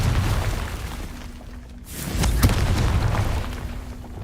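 A Confringo fire spell explodes in Hogwarts Legacy, a deep rumbling boom swelling after a brief dip, with a low roaring fiery tail, loud and close, no voices.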